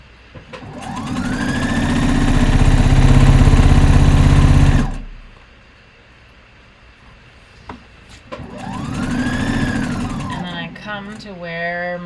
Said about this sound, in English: stop with the needle down, lift the presser foot up, pivot your fabric, and sew to the end